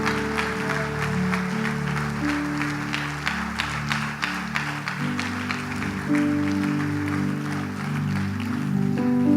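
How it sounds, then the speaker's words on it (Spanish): A church congregation applauds the Lord together, steady clapping filling the room alongside music with sustained keyboard or organ tones, the applause continuous throughout. "Póngase de pie y dele un aplauso fuerte al Señor con todo su corazón"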